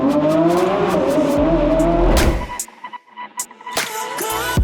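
A Porsche GT Street R engine roars loud and close, its pitch climbing through a hard rev before dropping off to a brief crackling lull. It then snaps back with another sharp rev.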